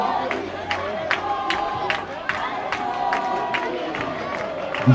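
Crowd noise from spectators at a club rugby union match between Eagle Stars RFC and Knysna United RFC, a steady loud roar of massed voices with chant-like rhythmic pulses throughout and sharper shouts scattered on top.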